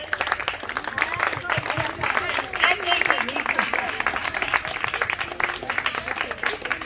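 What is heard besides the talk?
audience applause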